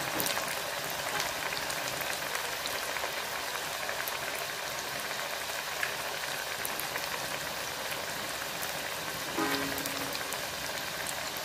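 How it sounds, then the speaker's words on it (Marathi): Upavasacha medu vada, three at a time, frying in hot oil, giving a steady dense sizzle and crackle throughout, close and even with no pauses. "आता मी तीन वडे घातले, खालची बाजू सोनेरी होईपर्यंत अजिबात दिवसू नका, खालची बाजू तळल्यानंतरच"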